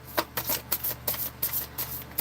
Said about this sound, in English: I will shuffle until a card comes